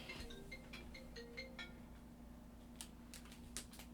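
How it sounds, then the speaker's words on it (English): A phone ringtone goes off quietly in a room, a series of short repeated electronic tones in the first half, followed by a couple of brief chirps, with a steady background hum. "I am so sorry that the phone went off."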